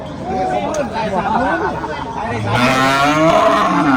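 Buffalo bellow with long, wavering moos at a livestock market in Phanna Nikhom, Sakon Nakhon, Thailand, loud and close amid a busy crowd's chatter and someone speaking.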